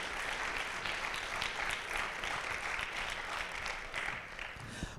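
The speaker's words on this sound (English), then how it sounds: "can we just please give them one quick applause to say thank you" Steady applause from a high school assembly audience, a dense wash of clapping that holds for several seconds and then tapers near the end.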